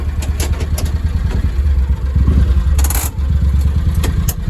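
A John Deere 625i Gator utility vehicle idles in neutral on flat ground, its engine giving a steady, close low rumble with a faint rattly clatter and one brief brighter burst partway through.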